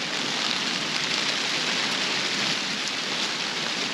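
Heavy rain falls steadily on a vegetable garden with tomatoes, carrots and eggplants, a dense, even hiss of drops close by with no break and no voices.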